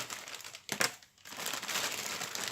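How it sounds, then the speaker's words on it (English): A plastic bag from an Airfix Vickers Wellington model kit is cut and pulled open, giving a short burst of close crinkling, a brief pause, then more rustling. "Just going to cut the bag and get it open."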